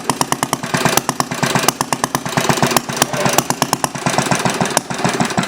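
A glass-head Briggs small engine runs on its own close by, a loud, rapid chugging with a steady firing rhythm that holds evenly for several seconds.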